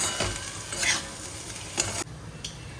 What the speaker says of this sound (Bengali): একটু আলু পেঁয়াজ খুব কম তেলেই ভাজছি